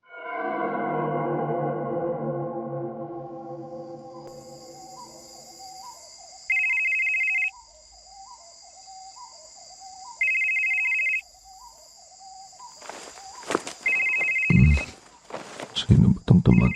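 A telephone rings at night with repeated electronic ringtone bursts in a steady rhythm, set among eerie tonal effects, followed by shuffling and handling noises near the end.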